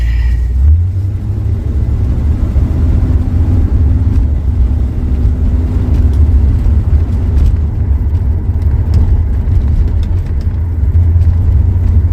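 A Corvette cruising on the road produces a loud, continuous low engine rumble and drone, holding steady without any break and with no voices over it.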